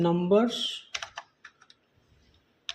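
Keystrokes on a computer keyboard while entering data in Excel, a short burst of several clicks followed by sparse isolated taps, heard after a brief spoken voice at the start.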